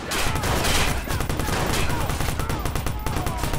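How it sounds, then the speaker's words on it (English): A Tommy gun fires in a war video game, rapid continuous bursts of automatic fire, loud and close, with crackling shots layered over background battle noise. "Tommy gun"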